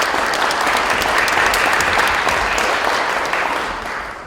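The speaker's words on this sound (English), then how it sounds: "Can we have a round of applause" An audience at a historical society lunchtime talk breaks into loud, sustained applause, a dense clatter of many hands clapping that holds steady before tapering off toward the end.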